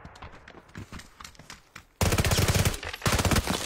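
Video game gunfire: scattered single shots at first, then sudden loud rapid automatic bursts that rattle in close succession, with a brief lull before another burst.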